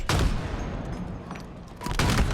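Gunfire in a competitive Halo match at a pro tournament: a loud burst of rapid shots opens, quieter action follows, and a second heavy volley closes, all close and punchy.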